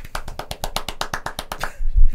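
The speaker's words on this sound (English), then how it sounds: "One man clap" A single person claps steadily about a dozen times in quick succession, close and crisp, followed by a brief low thump at the end.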